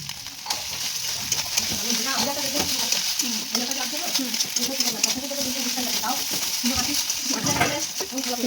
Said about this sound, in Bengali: এটা দেখে আমি ভালো মতো করে একদম ফ্রাই করে নিচ্ছি যাতে মশলার সাথে থোড়গুলো একদম ভালো মতো লেগে যায়।